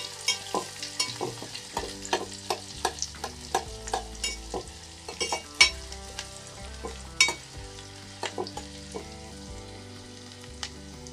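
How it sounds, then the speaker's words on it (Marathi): Onion sizzles in a pan while a spoon stirs it, with sharp scraping clicks that come in a steady rhythm over a soft, continuous frying hiss. The sound is close, and no one speaks. "त्यामध्ये ॲड करते मी आता कांदा, आता आपल्याला व्यवस्थित त्याला भाजून घ्यायचं आहे."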